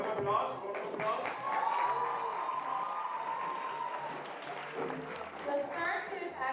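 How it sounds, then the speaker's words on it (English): Audience applause at a 2025 CTC awards ceremony, a steady wash of clapping from a crowd in a hall, with a voice speaking over it throughout. "Round of applause, round of applause."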